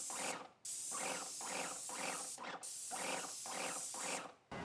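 A Wagner paint sprayer spraying stain onto wooden fence boards, making steady pulsing hissy bursts with a rhythmic mechanical throb and short pauses between passes, fairly quiet.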